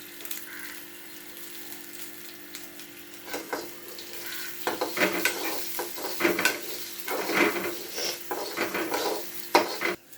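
Curry leaves crackle and sizzle in a hot pan with cumin, turmeric and onions, stirred with a utensil that knocks and scrapes in bursts, the frying growing busier and louder toward the end; no one talks.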